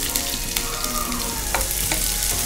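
Onions frying in oil with cumin seeds, a steady sizzle broken by a few quick utensil scrapes against the pan.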